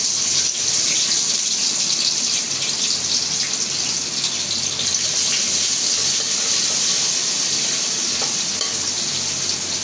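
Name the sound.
onions frying in oil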